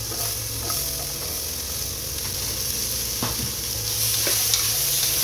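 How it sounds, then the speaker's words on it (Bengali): Chopped vegetables and soybean granules frying in a pan on a home kitchen stove, a loud steady sizzle with scraping stirring strokes throughout, close up and with no talking. "এবার যা সবজি কাটা ছিল সব একে একে দিয়ে দেবো"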